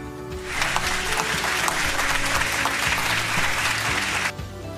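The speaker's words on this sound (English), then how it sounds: "Applaud." Steady applause from a group in an alphabet-game classroom setting, dense and even clapping that starts abruptly, holds at a constant level and stops suddenly near the end.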